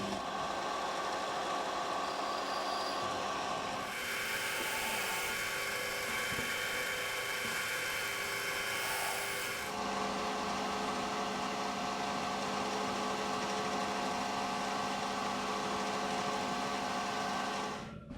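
A lathe chamfers and breaks the edges of a metal fan pulley for a Cummins engine, giving a steady whining machine hum with tonal ringing that shifts in character midway as the cut changes, with no voices.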